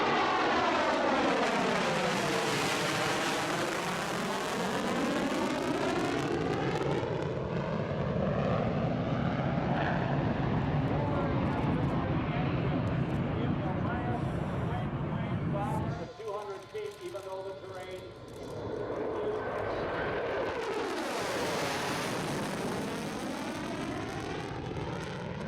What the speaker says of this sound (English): the jaw-dropping twilight display of a B-1B Lancer, complete with copious vapour